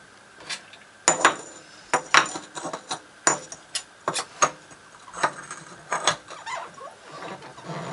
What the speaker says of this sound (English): And then I'll put my ceramic weights in.